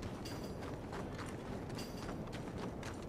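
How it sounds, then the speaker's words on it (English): Hooves pound in a steady galloping rhythm in Red Dead Redemption 2, dense and continuous over a constant rumble of movement, with no talk. "Come on, horse. Can't run all the way."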